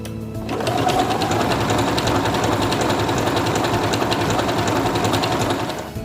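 A Singer Quantum Stylist 9960 computerized portable sewing machine stitches after a brief quiet start, its fast, even mechanical whir running loud, close and unbroken to the end.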